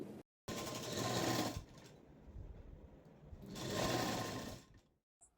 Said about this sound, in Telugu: చివరి అడ్జస్ట్ నుంచి అయితే స్టిచ్ చేస్తున్నాను క్లాత్ని సాగదీయకుండా స్టిచ్ అయితే చేసుకోవాలి